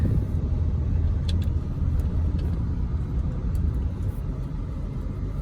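A 2002 Toyota Camry fitted with a new engine idles quietly, a steady low rumble that holds even and continuous throughout with no revving and no talking over it.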